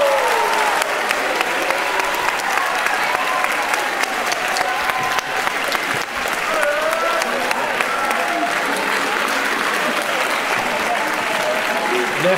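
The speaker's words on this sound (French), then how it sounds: "je vais vous demander de les applaudir vraiment déjà très fort" Enthusiastic audience applause fills a French theatre hall, dense and sustained clapping from a large crowd lasting throughout with steady loudness and no pauses.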